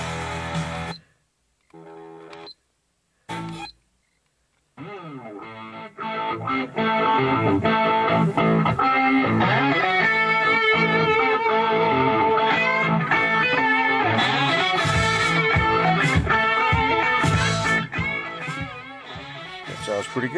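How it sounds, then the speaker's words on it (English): Music plays through an Alpine head unit and Alpine speakers on factory wiring in a 1991 Jeep Cherokee, starting after a few short bursts and then running loud and continuous, full and slightly distorted. "that's just a Alpine head unit and set of Alpine speakers with the factory wiring on my 91 Cherokee"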